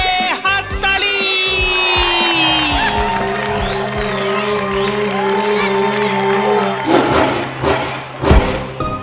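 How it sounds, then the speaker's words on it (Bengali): Crowd applause and cheering in a Bengali cartoon fairy tale about a husband and wife rise over tonal music and shouts, swelling louder with clapping bursts near the end. "জোরে হাততালি!"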